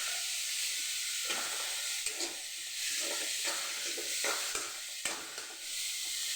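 Vegetables are sautéed in a pan with salt while making an egg fry. A loud, steady sizzle and hiss fills the scene up close, broken by repeated scraping stirs of a spatula.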